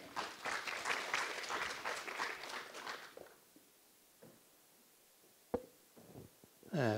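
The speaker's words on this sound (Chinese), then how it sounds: "让我们掌声欢迎董事长。" An audience at a lecture event applauds as the chairman is welcomed on stage. Loud, dense clapping lasts about three seconds, then dies away to quiet room tone with a few footsteps and small thumps.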